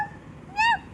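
A voice imitates a cat with a single short rising-and-falling meow near the end, clear and close after a quiet stretch.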